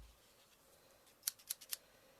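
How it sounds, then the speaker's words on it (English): Three quick, crisp snips of a pair of scissors trimming the edge of a sticker during stamp crafting, close and distinct against a quiet room, evenly spaced in a short burst. "I just take a pair of scissors"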